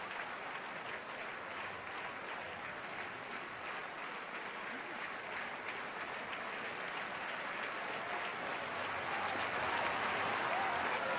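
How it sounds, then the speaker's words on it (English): A stadium crowd in Stockholm applauds a pole vaulter, a dense, sustained wash of clapping from many hands at a distance that grows slightly louder near the end. "I'll get a round of applause"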